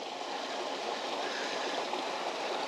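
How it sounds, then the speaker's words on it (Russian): Water runs from a fountain stone into a lake in a steady, even trickle and splash, a soft continuous wash with no other sounds and no talking. "И с него бежит водичка. Фонтанчик сделали."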